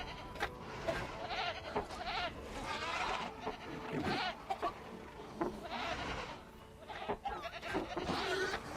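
Goats bleat repeatedly in a Jurassic World Evolution park scene, the calls rising and falling over steady game ambience for several seconds, moderately loud and fairly close.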